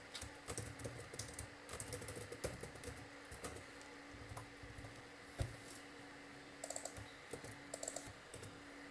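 Quiet, rapid typing on a computer keyboard while entering Django web code, a run of soft key clicks in irregular bursts with short pauses and one sharper knock partway through.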